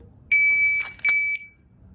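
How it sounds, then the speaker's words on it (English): Two sharp electronic beeps from a shot timer during dry fire pistol practice ring out close and clear, the first slightly longer, over a quiet background. "you're going to hear a beep and a par"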